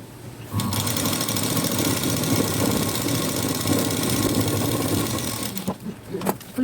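A sewing machine runs in one continuous, loud, fast whirring stitch while sewing blouse sleeves, starting abruptly after a brief quiet moment and stopping near the end with a few soft clicks.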